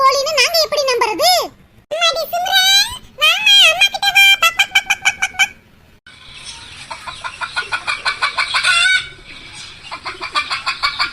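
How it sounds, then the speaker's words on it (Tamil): Chickens cluck and squawk in a domestic village dispute. Loud, rapid, repeated calls are mixed with people's raised voices arguing, and a dense run of pulsing clucks follows near the end. "உங்க வீட்டு கோழின்னு நாங்க எப்படி நம்புறது?"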